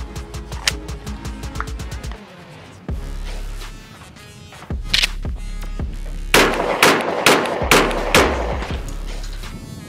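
A Glock pistol with a stock spring is fired with factory ammunition. A quick run of light mechanical clicks comes first, then several sharp, loud gunshots follow at irregular intervals, each with a brief ringing tail.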